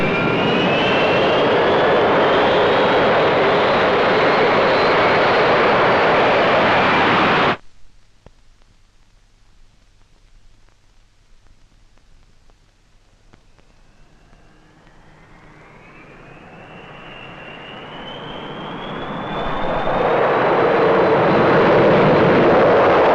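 A loud jet roar from an Avro Vulcan bomber on a Cold War standby operation, steady at first, then cutting to near silence before a rising whine swells back into a powerful engine roar.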